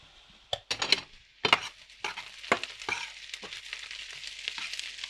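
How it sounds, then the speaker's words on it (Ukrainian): Onion fries in a pan with a light sizzle, broken by sharp scraping and clacking as a utensil stirs it, close and without any speech. "То Цибуля посмажиться"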